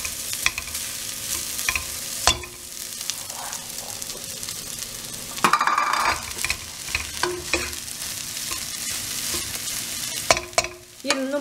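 Fried rice with quick-cooking vegetables, plain white rice added, stirred in a frying pan: soft continuous sizzling with repeated scraping and clanking of the spatula against the pan, close up.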